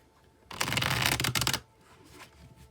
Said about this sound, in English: All right, I'm shuffling so I feel like the deck is ready.